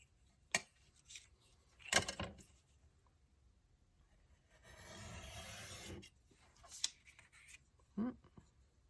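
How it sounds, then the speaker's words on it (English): An X-Acto knife slicing through paper on a planner page: a few sharp ticks and taps, then a steady scraping rasp of the blade drawn along for about a second, close and quiet. "I'm going to turn this pocket over and then cut this with my X-Acto knife"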